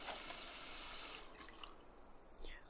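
Running water from hand washing in the game The Sims 4 pours steadily from a tap at a faint level, easing off midway into softer splashes and drips, with no one talking.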